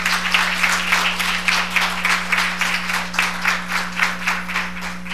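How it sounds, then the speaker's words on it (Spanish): Applause from the audience at a forum fills the room, many hands clapping in a pulsing, slightly rhythmic wave over a steady low electrical hum. "fuerte aplauso."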